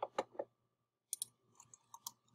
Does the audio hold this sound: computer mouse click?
yes